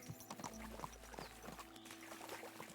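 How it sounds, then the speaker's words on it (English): Horse hooves clip-clop at a steady walking pace in the medieval video game Kingdom Come 2, mixed with light game ambience and occasional faint creaks, with no one talking. "what a beautiful horse"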